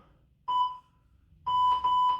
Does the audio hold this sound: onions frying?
no